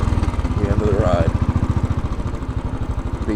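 A Royal Enfield Bullet 500 motorcycle thumps along Fifth Avenue in New York City, its single-cylinder engine pulsing in a steady, even beat close by, with a brief voice and street noise underneath.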